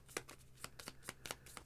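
Thick playing cards from the Enola Holmes: Finder of Lost Souls board game being shuffled close by, with quick riffling bursts and soft flicks in an uneven rhythm, quiet and alone without talk.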